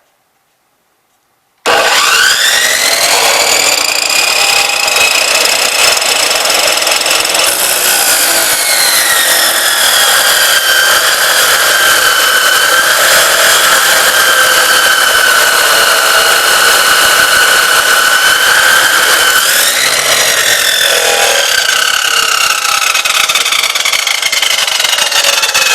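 A chopsaw cuts through steel rebar with a loud, continuous high-pitched grinding whine that starts abruptly after a short silence and holds for over twenty seconds, its pitch dipping slightly under load before rising again near the end.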